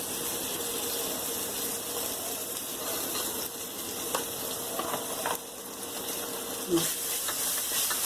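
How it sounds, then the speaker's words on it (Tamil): Ginger garlic paste and green chillies sauté in hot oil for a mutton dum biryani, giving a steady, loud hiss and sizzle that runs throughout, with faint kitchen clatter and a sharp knock near the end. "இதையும் சேர்த்துட்டு நல்லா நம்ம அந்த எண்ணெயிலே வதக்கிக்கலாம்."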